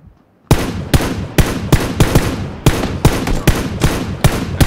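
Rapid bursts of gunfire from a battle royale video game, a dozen or so sharp, loud shots in uneven rhythm after a brief quiet start, with no talk over them.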